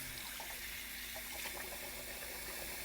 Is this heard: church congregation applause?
no